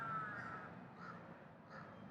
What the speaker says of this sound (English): Here's a bunch of crows up in the tree